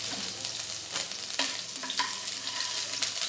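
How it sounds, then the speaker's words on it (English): Green chili dropped into hot oil with fried garlic and curry leaves while cooking cabbage, a close continuous sizzle with sharp spitting pops and occasional stirring scrapes, no voices. "so I put the green chili"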